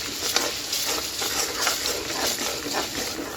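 Ground masala paste frying in oil in a pan for an aloo gobi kurma, giving a steady, moderate hiss and sizzle with light stirring scrapes throughout, close by and with no voices.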